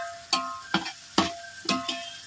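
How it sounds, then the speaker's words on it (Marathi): Onion, green chillies and thecha sauté in oil with four or five sharp sizzling bursts, each a quick hiss that fades before the next, as if stirred or tossed at a steady rhythm. "तेलामध्ये सगळं परतून घ्यायचे"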